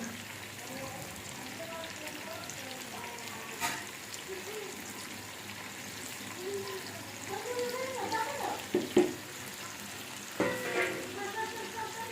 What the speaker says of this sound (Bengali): এখন আমি আচারটাকে কষিয়ে নিব, ভালোভাবে কষানো শেষ করব।